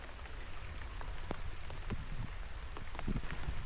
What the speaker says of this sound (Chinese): 在下雨了